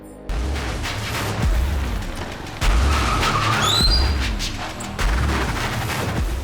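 A car driven recklessly skids and screeches amid loud, choppy engine and impact noise in several bursts, with no one speaking.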